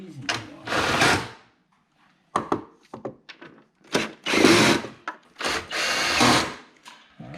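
A power tool tightens bolts while a Corvette ZR1-style wing is installed on a C7 Corvette, heard as several close, loud whirring bursts of a second or so, separated by pauses and brief clicks, with someone talking between them.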